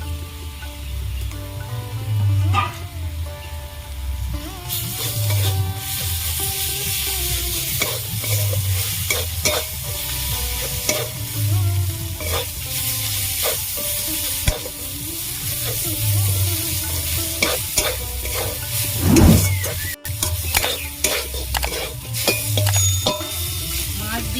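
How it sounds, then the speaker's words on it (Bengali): A spoon stirs and mixes boneless katla fish with spices in a frying pan for fish chops, steady sizzling under repeated close scraping and clinking strokes, with no talk. "ভালো করে নাড়াচাড়া করে নেবো এবার কাঁটা ছাড়ানো মাছটা দিয়ে দেবো"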